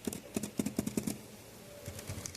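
Uneven clacking of keys on a Lenovo Pro 5 laptop keyboard, a quick run of close, sharp taps of differing loudness, then a pause and a few softer strokes.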